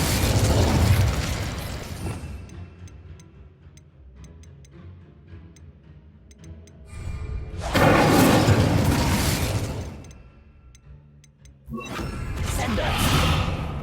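Incendio fire spell cast in Hogwarts Legacy: repeated loud whooshing bursts of flame with a roaring rumble, separated by quieter stretches of ticking game sounds.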